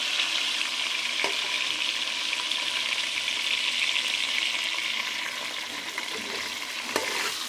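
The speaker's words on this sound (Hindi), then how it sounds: "हमने इसे थोड़ा मीडियम फ्लेम पे फ्राई करना है।" Half a kilogram of mutton for charsi karahi fries on a medium flame with a continuous close sizzle and crackle, with a couple of faint clinks from stirring.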